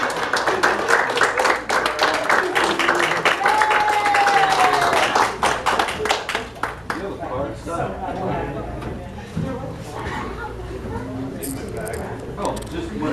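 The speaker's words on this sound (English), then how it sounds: "Give them another round of applause" Clapping from a pageant audience for contestants, fairly loud for the first several seconds, then thinning into scattered claps and murmuring crowd chatter, with a voice talking over part of it.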